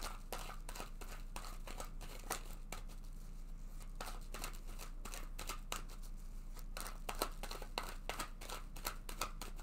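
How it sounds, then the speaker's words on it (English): A tarot card deck being shuffled by hand, soft repeated riffling and crinkling bursts, close and quiet, continuing throughout with no talk. "So let's go ahead and shuffle this deck several times."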